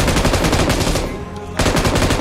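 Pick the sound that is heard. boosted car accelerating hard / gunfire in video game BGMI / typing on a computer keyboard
gunfire in video game BGMI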